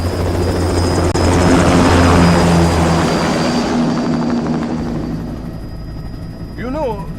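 Aircraft lifting off in the video game Metal Gear Rising: Revengeance, a loud, steady rotor-like engine roar that swells and then fades, with a sweeping electronic whine near the end and voices talking over it.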